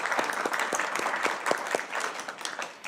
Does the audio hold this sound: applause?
yes